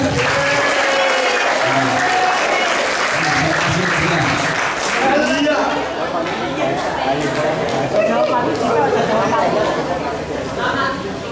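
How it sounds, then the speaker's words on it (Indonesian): Audience applause rolls through a classroom-style gathering, steady clapping from a crowd mixed with chatter and someone speaking over it, fairly close and loud. "Tepuk tangan."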